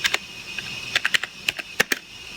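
Typing on a computer keyboard to enter an ATI flash utility command: a steady run of a dozen or so close, sharp key clicks at an uneven rhythm, with no other sound.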